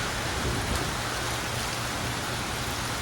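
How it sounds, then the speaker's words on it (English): Heavy rain pouring steadily during a windy storm outdoors at a home gate, a dense continuous wash of falling water, loud and unbroken throughout with no voices. "The rain pours so heavily right now."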